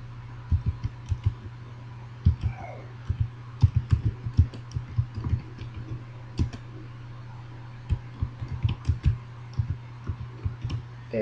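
Irregular bursts of keyboard typing, crisp close clicks and taps in uneven clusters over a low steady hum, with no talking.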